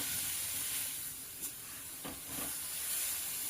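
Vegetable filling for veg momos frying in a pan, a steady, dense sizzle close by with a few faint scrapes of stirring through it.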